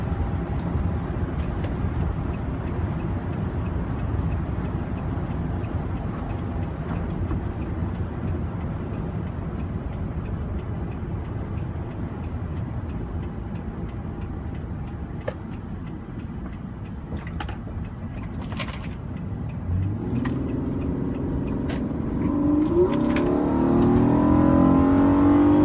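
A 4x4 car engine rumbles at a steady low idle for a long stretch, then rises into a louder revving acceleration toward the end, heard from inside the vehicle.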